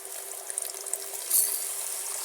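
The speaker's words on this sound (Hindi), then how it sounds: "ठहरा कर डालना पानी।" Water trickles slowly into tamarind pulp in a kitchen, a soft, thin splashing pour close by that swells briefly louder partway through, with no talk over it.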